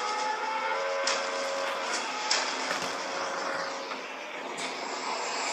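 NATO military aircraft over Belgrade during the 1999 bombing, a continuous broad engine roar with a steady drone and a few sharp transient bursts layered over it, with no voices.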